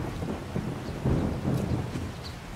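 Rain and rolling thunder in the video game 7 Days to Die, a low rumble swelling and fading over a steady patter of rainfall, with no voices.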